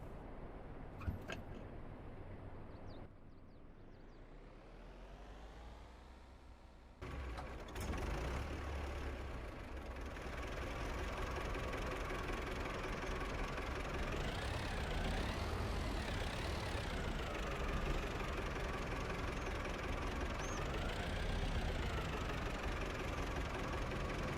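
A tractor engine in Farming Simulator 22 starts up and settles into a steady, rumbling chug, its pitch wavering as it revs gently, with a few clicks at the start.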